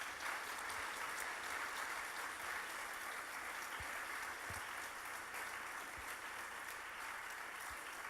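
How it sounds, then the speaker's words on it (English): Warm applause from an evening audience at a forest conservation panel event, steady broadband clapping sustained throughout at moderate distance, fairly faint, with a few low thumps and no talk. "Can I have a warm round of applause, please, for all our panelists?"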